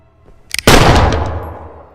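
A revolver fires in a dark room, a couple of small sharp clicks leading into one loud, close blast whose ringing report decays over a second and a half.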